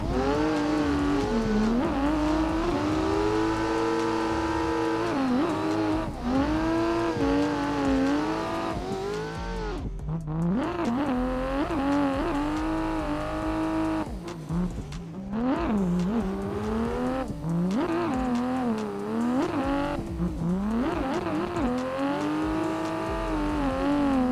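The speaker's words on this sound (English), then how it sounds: "Why is the Corvette still loud?" Corvette engine in a racing video game, loud revving that rises and falls with gear shifts and brief drops in throttle, close and continuous throughout without speech.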